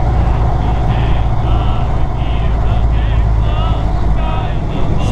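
A Ford Model A from around the 1930s drives along, its engine a low steady rumble filling the interior while someone talks over it.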